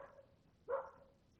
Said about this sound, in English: There are always dogs who object to your presence when you walk down alleys.